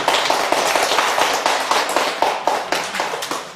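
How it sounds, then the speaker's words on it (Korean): A church congregation at a Sunday worship service claps steadily and loudly, a dense sustained round of applause with rhythmic accents throughout. "박수 또 한번"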